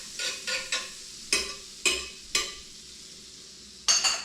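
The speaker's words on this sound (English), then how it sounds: "Let's put some butter on the griddle. That's what she should sound like." Butter sizzles on a hot griddle in short hissing bursts as it is pushed around, with a spatula scraping and tapping against the metal, close and fairly quiet, and no one talking.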